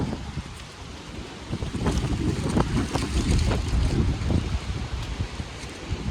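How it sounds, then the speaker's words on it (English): Strong wind blows outdoors across an owner-operator truck repair site, a continuous low gusting roar buffeting the microphone with no other sound on top. "The wind through my whole project here has been just throwing my trash all over the place"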